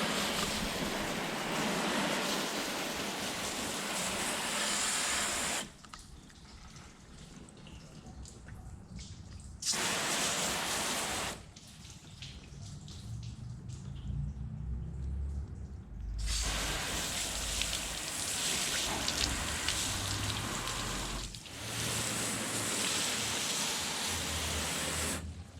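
Bursts of fine hissing spray from a ceramic coating bottle being misted onto a freshly hand-washed car, several long close sprays separated by quieter pauses, with no voices.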